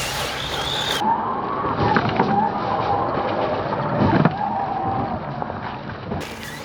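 A Losi Lasernut U4 RC car with big tyres and working suspension drives across rough terrain, its electric motor whining and its tyres crunching and rumbling continuously, close by with no talk.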